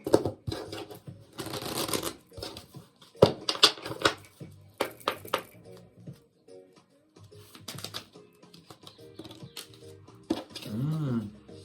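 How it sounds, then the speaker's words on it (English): Oracle cards riffled and shuffled in several bursts, with soft clicks and snaps between, and a voice coming in briefly near the end. "Get a good shuffle."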